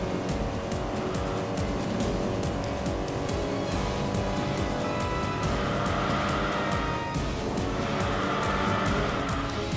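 Race car from the video game Enthusia Professional Racing, its engine roaring loud and continuous while the tires squeal and skid through corners, with no pauses across the stretch.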